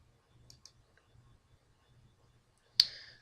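A single sharp computer mouse click on a website button, close and crisp near the end after a few faint taps.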